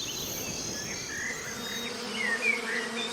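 A swarm of bees buzzes steadily at close range, a dense, continuous hum with shifting whines of individual insects passing, and no voices.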